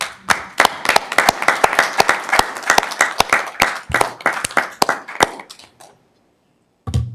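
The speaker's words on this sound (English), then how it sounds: "definitely think that's worthy of a round of applause" A crowd at a school board meeting claps enthusiastically for about six seconds, the applause fading out before one final clap.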